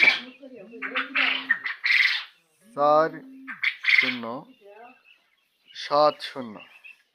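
Quail on a farm with rice-husk bedding, calling in short, loud, harmonic squawks and chirps that come in separate bursts with quiet gaps between them, close by.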